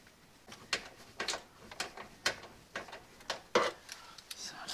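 Irregular, fairly faint clicks of a ratchet tighten bolts on a tow mirror being fitted to a 1999–2007 Ford Super Duty F-250 truck, spaced bursts with soft knocks in between.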